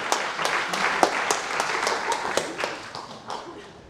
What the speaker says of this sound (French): Petit applaudissement pour le film